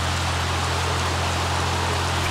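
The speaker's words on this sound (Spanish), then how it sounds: "Es que con esta lluvia me impide ver todo," Steady, moderately loud rain from The Sims 3 video game, a continuous broadband hiss of falling water with no pauses, heard alone without any voices.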